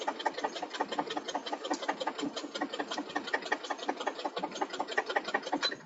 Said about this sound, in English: I'd love to check that sewing machine. It sounds like something smacking on something.